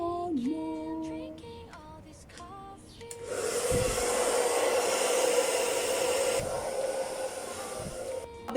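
A hair dryer starts up partway through and blows a steady, loud broadband rush on short natural hair at a reduced heat setting, with tonal clicks and beeps before it switches on and a slight drop in force near the end.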